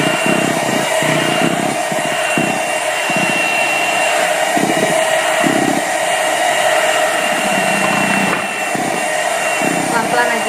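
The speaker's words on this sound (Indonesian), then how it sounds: "pelan-pelan aja kita akan aduk dengan kecepatannya rendah" An electric mixer runs at low speed stirring cake batter for a chocolate cheese tape sponge cake, a steady, loud motor whine throughout, with someone speaking over it.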